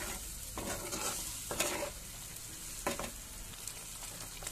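Stinging nettle (bichhu buti) saag stirred in a pan as it cooks in a Himachali pahari kitchen, a soft steady sizzle broken by a few brief scraping strokes of the spoon, close and fairly quiet.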